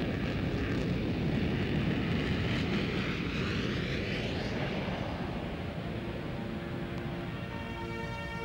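Steady, loud broadband roar of a Boeing airliner in flight on a passenger service to Tehran, a continuous cabin drone with no talking over it.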